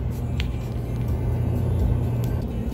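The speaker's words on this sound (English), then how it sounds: "Still driving." A Ram pickup truck cruises down the road, its engine and tires making a steady, loud rumble heard from inside the cab, with no one talking.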